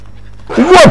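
A dog in the video game Inside gives one short, loud bark or yelp close by, standing alone for a brief moment.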